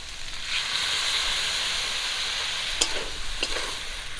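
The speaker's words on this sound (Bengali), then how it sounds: "মশলাটা দেওয়ার পর আর একটু ভেজে নেব" Hand-ground spice paste frying in a pan for a puti fish and dhenki greens chorchori, a continuous close hiss of sizzling with a couple of sharp spatula scrapes near the end, no voices.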